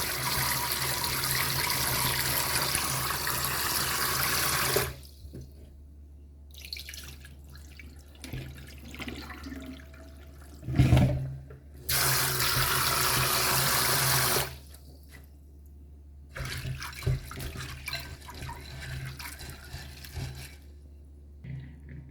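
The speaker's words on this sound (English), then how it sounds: "I pour out the amount of peas that I want to use, and I'm just washing them to add them to the pot." Peas are washed under running tap water, with bursts of steady gushing flow broken by quieter gaps of swishing, dripping and handling.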